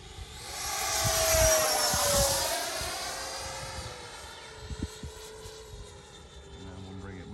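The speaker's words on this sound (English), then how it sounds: "I'll let y'all hear it spool up" An E-flite Viper RC sport jet spools up over a runway, a rising whine that swells loud and sweeps in pitch before easing off, with a faint voice briefly underneath.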